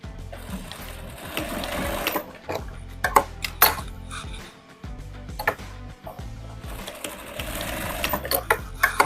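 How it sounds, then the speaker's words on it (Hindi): On a fabric ottoman cover, a sewing machine stitches back and forth across the ends of a zipper. It whirs in close, uneven runs broken by clicks, knocks and brief pauses as the fabric is repositioned. "तो हम क्या करेंगे, इस हिस्से पे सिलाई लगा देंगे दोनों तरफ।"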